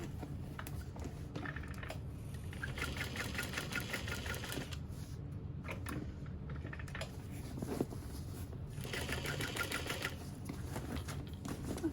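A sewing machine stitches binding onto a black barrel bag, running in close bursts of rapid mechanical whirring and patter with short pauses between runs.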